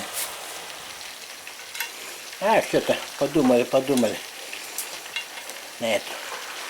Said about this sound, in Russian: Вон у нас рыба жарится